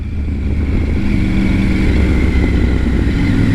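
A motorcycle engine runs steadily and loud throughout, a close, continuous low rumble with a sustained whine above it during a police Bikesafe ride.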